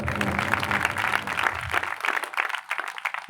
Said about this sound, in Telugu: అందరూ గట్టిగా చప్పట్లు కొట్టాలి ఒకసారి